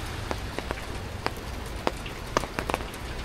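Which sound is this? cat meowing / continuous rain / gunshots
continuous rain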